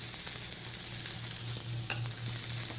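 Filet mignon steaks seasoned with salt and pepper sear in a very hot pan, giving off a soft, even sizzle with a low hum beneath it and a brief crackle partway through.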